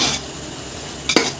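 Tomato, green chili, coriander and mint being sautéed in a pan for a Dindigul dum biryani, with a soft hiss and a sharp utensil clink against the pan near the end.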